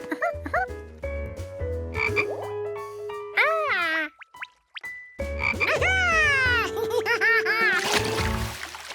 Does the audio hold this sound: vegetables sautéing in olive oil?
no